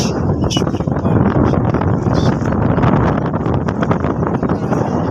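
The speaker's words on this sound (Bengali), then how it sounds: "খোলাপড়া লঞ্চে বসতে ভালোই লাগে অনেক বাতাস প্রচণ্ড বাতাস" Strong wind rushes over an open river launch, a loud, continuous roaring buffet across the microphone with a faint engine rumble underneath and a voice talking over it.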